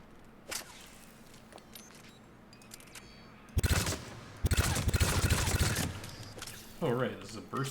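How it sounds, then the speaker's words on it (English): Burst-fire submachine gun from Mass Effect 3 firing several rapid bursts of sharp close shots after a quieter stretch, with speech around the firing. "this is a burst fire submachine gun"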